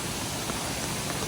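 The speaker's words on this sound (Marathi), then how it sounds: "या साईडला तुम्हाला दिसत आहे खळखळ येणारं पाणी आणि धबधबा आहे बघा" A rain-fed waterfall and gushing stream in the Konkan hills near Lanja, Ratnagiri, produce a steady, loud, even rush of water that fills the whole moment, with no voices.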